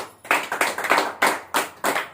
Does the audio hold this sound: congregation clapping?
yes